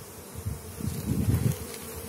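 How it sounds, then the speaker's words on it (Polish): Honey bees work a field of blue phacelia in dry weather, a dense steady buzzing drone of many insects close by, swelling slightly in the middle, with no talk. "No, pszczoły pracują."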